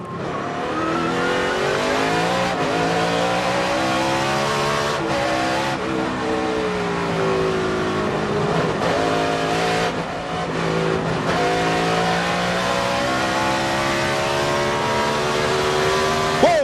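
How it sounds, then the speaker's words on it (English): NASCAR stock cars racing at Sonoma Raceway in 2005, engines roaring loudly and continuously with rising and falling revs as several cars slide through the road-course turns, heard up close from onboard with no talking. "You can see all these lead cars here sliding around."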